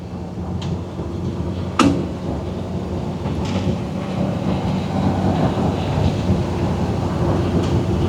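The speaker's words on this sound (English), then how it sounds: "You can hear the trailer bouncing around just a tiny bit more." Low rumbling road noise from inside a moving vehicle, with occasional sharp clunks and thumps as a towed trailer bounces over a gravel road.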